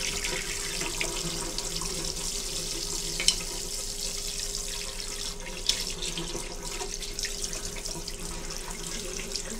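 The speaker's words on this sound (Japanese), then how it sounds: "ちょっとお湯でちょっと洗ってみようかな。" Hot water runs steadily from a tap as a razor is rinsed beneath it, a continuous close splashing hiss with a couple of brief louder splashes.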